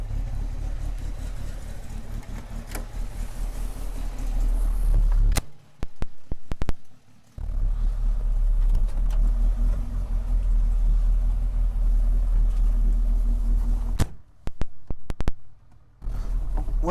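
1963 Alfa Romeo Giulietta T.I. engine on a ride, a low steady rumble broken twice by short pauses with clunks and clicks before the drone resumes.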